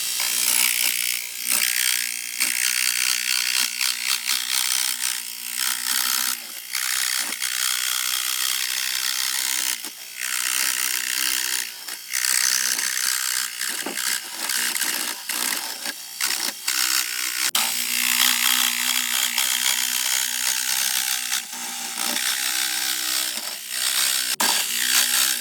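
A jigsaw cuts sheet metal for a speaker opening in a Chevy Tahoe. Its harsh, rasping buzz comes in uneven bursts with brief stops and restarts, close up and loud.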